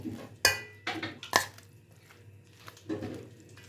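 Spoon scraping and clinking against a bowl while potato fritter batter (pakora mix) is stirred, a few distinct knocks and softer scrapes, close and fairly quiet, no talking.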